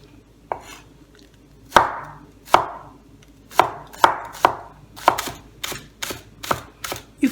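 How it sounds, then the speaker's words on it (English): A knife chops onions very finely on a board, a series of sharp, separate chops that come faster and more regular toward the end, close and clear with no talking. "Now the onions, I'm going to chop them as well"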